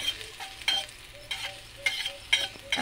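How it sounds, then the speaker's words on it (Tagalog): Garlic sizzling in a lightly oiled frying pan, a steady crackling fry with a few sharper spatters and stirring scrapes, close and fairly quiet, no voices. "ito, binigisa ko muna yung garlic"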